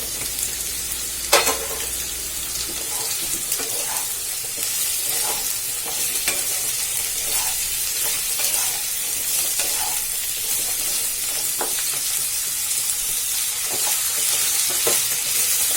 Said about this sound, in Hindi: अब इसमें हम आलू डाल देंगे, इसको भी हम फ्राई कर लेंगे थोड़ा